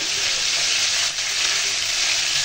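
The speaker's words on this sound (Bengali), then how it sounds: "আর এই যে এখন মাছটা ভেজে নিতেছি একটা একটা করে।" Hilsa fish pieces fry one at a time in hot oil, a loud, continuous bright sizzle that holds steady close up, with only a brief dip midway.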